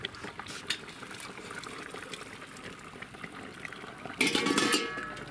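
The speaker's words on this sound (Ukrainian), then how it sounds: "бо сильно кипить і почало все текти." Grape juice bubbles and simmers in a pot, a soft continuous churning with a louder burst of sputtering near the end.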